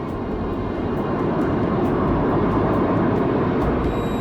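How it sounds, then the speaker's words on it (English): Aircraft engine droning steadily overhead, a loud continuous roar that swells slightly and holds throughout, with no voices. "This is one of the most amazing and most extraordinary aircraft in the world."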